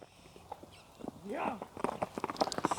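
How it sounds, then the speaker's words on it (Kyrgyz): Racehorse hooves clip-clopping on the ground, a quiet, irregular series of thuds that grows busier and faster toward the end, with people talking faintly nearby. "Көрүңүздөр атты, мына кетишин көрүп жатасыздар."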